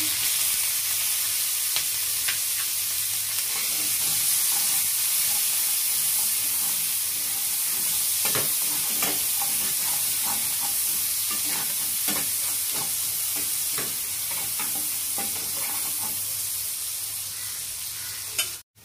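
Chopped onions fry lightly in a pan with a steady, close sizzle throughout, broken by scattered scraping stirs of a utensil against the pan, with no voices.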